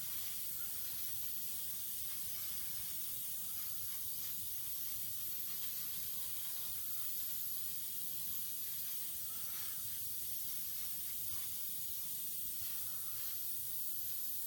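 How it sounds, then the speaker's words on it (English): An airbrush sprays steadily for the whole stretch while epoxy resin water ripple effects are worked over a model railway dam, a continuous close hiss with slight bursts and no talk. "Back to our airbrush."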